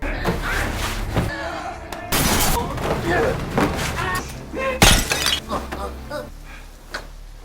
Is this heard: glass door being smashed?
yes